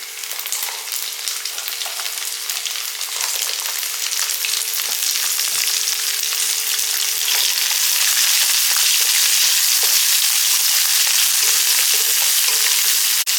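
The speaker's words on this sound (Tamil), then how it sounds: "வெங்காயமும் வெள்ளைப்பூடும் இந்த அளவுக்கு வதங்கினா போதும்" Steady, crackling sizzle of onions and garlic frying in a pan, continuous and close, with occasional faint stirring noises and no talking.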